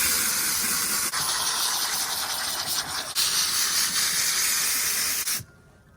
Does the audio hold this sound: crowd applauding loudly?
no